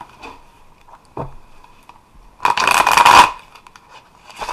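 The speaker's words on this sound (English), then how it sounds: "I'll give this one more good shuffle." Tarot cards are shuffled once in a short, dense riffling burst, close and moderately loud, between faint taps and quiet handling noises.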